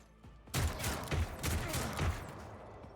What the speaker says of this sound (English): Let's try this auto gun.